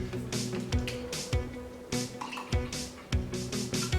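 Fairlife milk is splashed into a glass of cold brew coffee, giving wet drips and gurgles in short irregular bursts, close and fairly quiet.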